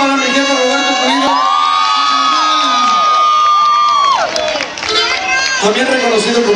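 A loud crowd cheers and whoops at the 2014 Tejano Fest music festival in Monterrey. Sustained voices shouting and hollering ride over a dense crowd roar for several seconds.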